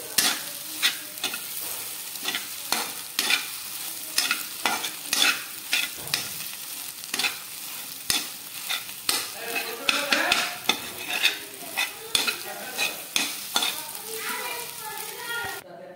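Chopped pieces of cooked egg fry in oil in a kadai, with a steady sizzle broken by frequent sharp scrapes and clinks of a spoon stirring against the pan.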